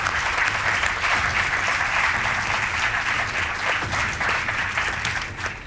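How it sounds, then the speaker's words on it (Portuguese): A studio audience on a television quiz show applauds two contestants, Ricardo and Carlos, with loud, sustained, even clapping throughout. "Um aplauso para eles!"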